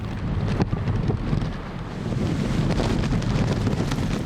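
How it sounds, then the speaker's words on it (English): Strong typhoon wind gusts in Hong Kong, under Typhoon Signal No. 8, buffet the microphone in continuous roaring gusts, loud and rumbling throughout with no voices. "Gusts pounded the area."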